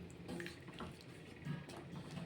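A cup of water is poured into a thickening cucumber masala curry made with coconut paste, a soft, close splashing pour running steadily for a couple of seconds with no talk.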